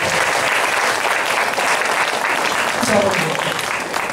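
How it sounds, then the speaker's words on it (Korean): A congregation at a memorization school gathering claps loudly and continuously, a sustained close round of applause filling the room. "그러니까 여러분 참 오늘 새로 오신 분들 위해서 한번 박수 좀 쳐드립니다."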